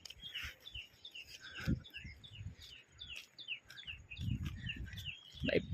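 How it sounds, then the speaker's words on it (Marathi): Small birds chirp repeatedly in Konkan countryside during rain, with bright overlapping tweets spread across the whole stretch, fairly close and clear over a soft low rumble of ambient noise. "पक्ष्यांचा आवाज"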